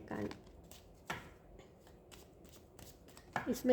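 A deck of cards is shuffled close by during a card reading. Soft, quiet bursts of riffling and flicking come at the start, in the middle and again at the end.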